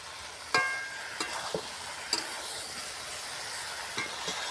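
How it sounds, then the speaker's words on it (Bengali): Vegetables are stirred in a pan over low heat, giving a soft, steady sizzle with a few light scraping clicks of the spoon, close and quiet, no voices. "এইভাবে ধীরে ধীরে আপনারা মাঝে মধ্যে নাড়বেন এবার সবজিটাকে"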